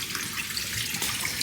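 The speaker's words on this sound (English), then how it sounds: "I'm gonna start by rinsing the split peas" Tap water runs steadily over split peas being rinsed in a kitchen sink to wash off starch and dirt, a close, continuous splashing stream with no talk.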